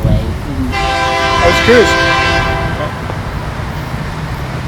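A train rolls past and sounds its horn with a loud, sustained multi-tone blast that rises, holds for about two seconds and fades, over a rumbling engine and wheel noise, with a brief spoken voice near the start.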